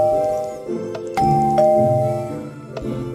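A doorbell in Minecraft rings with a sustained tonal chime, several overlapping notes with a few sharp clicks between them, loud and close.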